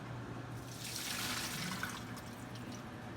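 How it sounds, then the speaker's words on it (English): Water gushes through a tube during colonic irrigation, a soft steady hiss and rush that swells in the middle and then settles, faint and continuous with no speech. "you will probably hear the gush of water that comes out of you"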